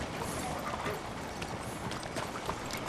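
Horse hooves clip-clop on a street in Red Dead Redemption 2, a steady trotting beat set against dense, continuous game ambience.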